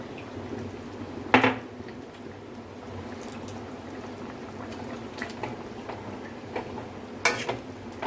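Red chicken curry with potatoes bubbles softly in a pot on a gas stove, a low continuous simmer near and quiet, broken by a few sharp clinks of utensils against the pot.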